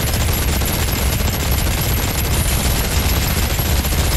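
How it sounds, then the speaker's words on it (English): Dense rapid gunfire from a video game shootout in Ark: Genesis 2, a continuous crackling fusillade of overlapping shots at constant loudness throughout. "Oh, I'm getting shot."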